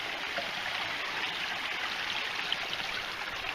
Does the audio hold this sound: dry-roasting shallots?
no